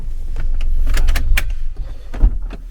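Power windows whir on a parked car alongside door clicks, key jangling and handling thumps, close and loud with a steady hum underneath.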